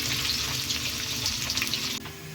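Chopped onion and chilli fry in a pan with a dense, continuous sizzle that stays loud and steady, then drops slightly near the end; no voices.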